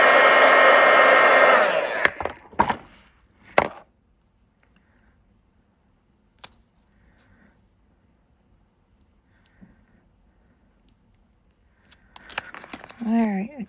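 A heat tool blows hot air in a loud, steady roar for about two seconds while making a paper-craft window from washi tape, then cuts off, leaving quiet handling clicks and a short burst of voice at the end.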